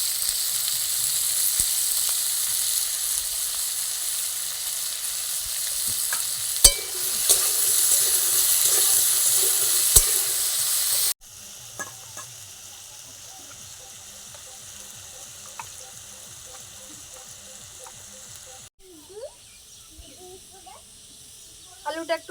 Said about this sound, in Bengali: আলুটা একটু ভাজা ভাজা হয়ে গিয়েছে